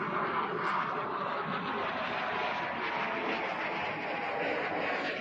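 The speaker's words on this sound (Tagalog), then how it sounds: "kung naririnig nyo po yung ingay ng fighter jet" Eight fighter jets circling overhead make a loud, steady roar that holds without a break from start to end, with no talk over it.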